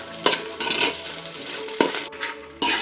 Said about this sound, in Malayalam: കണ്ട, നമുക്ക് ഫ്രൈ ആവുന്നവരെ ഒന്ന് ഇളക്കാം.